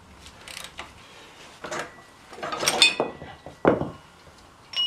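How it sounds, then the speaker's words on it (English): Bolts being loosened on a motorcycle wheel (a GS1100E) during brake rotor work: a few scattered metallic clinks and ratchety mechanical clicks with short pauses between, close by and fairly quiet, no talking. "We're ready to pull the lower bolts off and then pull the axle."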